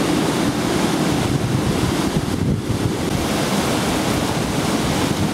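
Water rushes over Top Cliff weir on the River Swale, running high after rain, in a loud, dense, continuous roar heard close up with no break and no voices.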